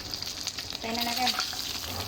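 Chicken fries in hot oil with a steady, close crackling sizzle, while a brief voice sounds partway through.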